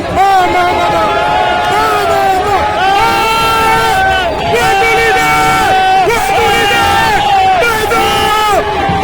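A huge crowd at Moïse Katumbi Chapwe's political rally roars continuously, with many voices chanting and shouting together in a loud, dense wall of sound that never lets up.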